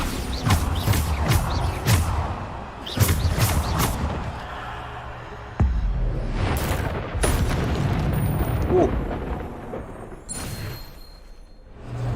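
Bombarda explosion spells booming repeatedly during combat in the video game Hogwarts Legacy, loud deep blasts mixed with dense battle effects and bursts of gunfire-like crackle.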